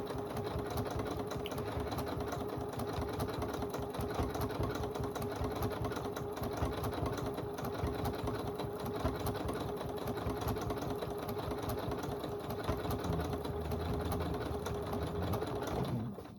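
An embroidery sewing machine stitches a poinsettia runner with a steady, continuous rapid whirring and mechanical chatter, close and unbroken for the whole stretch, with no talking.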